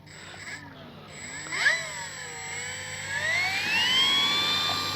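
Electric motor of a Dynam ME BF-109 RC warbird spinning up, a thin whining tone that dips and then climbs steadily in pitch and loudness as it revs, heard fairly close over faint background noise.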